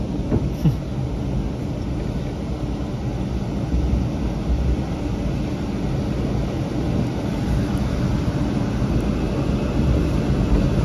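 The Taksaka express train rolls through a station, producing a steady, loud, continuous rumble and roar that holds at an even level throughout with no voices.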